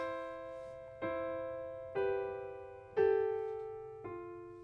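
A solo piano fill for It Is Well With My Soul plays five clear, evenly spaced struck chords, with a dissonant cluster clash that resolves and rings out between strikes.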